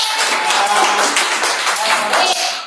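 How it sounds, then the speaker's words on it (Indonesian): A classroom of students claps hands together in a brief burst of quick, overlapping claps, fairly close and even, with a trace of voices. "Tepuk tangan dong."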